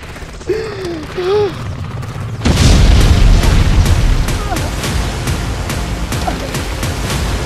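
A loud, sudden bomb blast in a dramatized wartime escape erupts after a few faint cries, then gives way to a sustained low rumble with scattered crackling debris.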